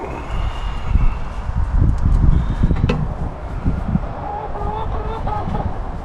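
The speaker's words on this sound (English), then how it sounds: "One of my chickens has made its way into the lab and is trying to get out." A hen clucks softly a few times indoors over a loud, rumbling background, the calls faint and intermittent.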